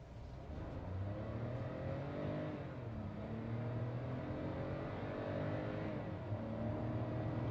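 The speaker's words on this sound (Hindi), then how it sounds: "आपको वो स्वीटर रेव करने की जो आवाज है ना वो मैं आपको सुनाता हूँ" A Kia Sonet 1.0-litre petrol engine revs steadily, its note rising and falling over several seconds, close and moderately loud with no talk.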